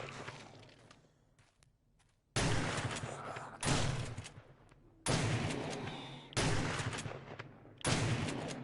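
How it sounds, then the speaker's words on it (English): A shotgun firing in the video game 7 Days to Die, loud single blasts that each trail off and come roughly once a second after a quieter opening stretch. "Worst gun in the game, the shotgun."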